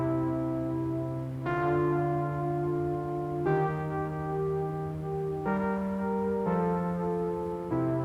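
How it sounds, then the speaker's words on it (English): A simple retro 80s-style synth run through a tape emulator plays slow sustained notes that change pitch every second or two, each one glowing and slightly warbling, mellow and moderately quiet with no voices. "I got a plugin by Cale Alden that is a retro 80s plugin that takes simple synths and runs them through like a tape emulator."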